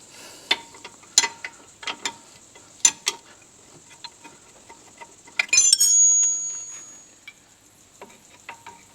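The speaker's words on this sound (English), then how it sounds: "with your 15mm spanner and 16 on the inside here, to stop it from rotating, we'll just crack that caliper bolt off" Spanner work on a rear brake caliper bolt of a VT to VZ Holden Commodore, sharp separate metallic clicks and clanks spaced through the clip, with a brief scraping rush near the middle, close up and without talk.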